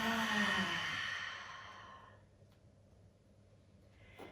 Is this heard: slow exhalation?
yes